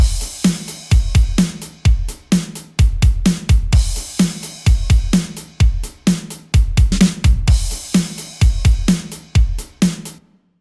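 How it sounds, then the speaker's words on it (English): A steady acoustic kick, snare and hi-hat loop from a progressive house beat, with a bright crash cymbal splashing over it at intervals. The pattern repeats loudly and evenly, with no talking. "And then a Kashmir crash sound which sounds like this."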